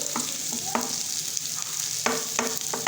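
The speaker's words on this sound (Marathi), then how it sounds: "मस्तपैकी गोल्डन ब्राऊन होईपर्यंत आपल्याला हे कांदा भाजून घ्यायचा आहे" Sliced onion frying in a pan until golden brown for a spicy onion chutney, with a steady soft sizzle and a few clinks of stirring. No one speaks.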